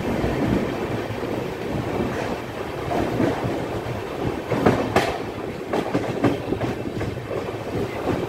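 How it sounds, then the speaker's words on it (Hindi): An express train pulls into Vapi station with steady rolling rumble and wheel clatter, a few sharp squeals and clacks rising partway through, loud and close with no talking. "वापी स्टेशन पे हमारे इस ट्रेन का अराइवल हो रहा है"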